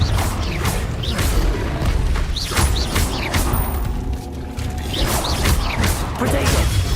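Confringo blasting spell explosions in Hogwarts Legacy, a steady run of loud, close bursts and crashing impacts repeating every second or so over a dense rumbling bed.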